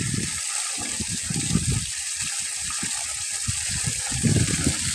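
Irrigation water gushes into a dry rice paddy in summer, a continuous rushing flow up close with uneven surges that rise and fall, and no talking.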